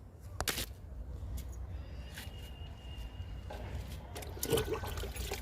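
Liquid trickles and pours onto a small potted hibiscus plant, a faint, steady watery splash with a few brief louder spatters, quiet and close.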